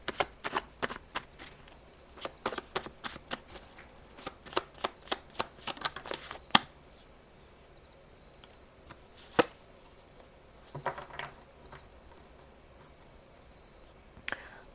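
Tarot message cards shuffled in rapid rhythmic riffle snaps, a long dense run of crisp close clicks that thins into a few scattered taps and soft rustles toward the end, no voice.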